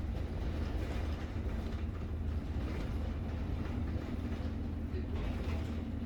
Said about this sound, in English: I think it's about to go into gear five now. Yeah, there we go. Oh, my favorite gear, man. It sounds so chill on that.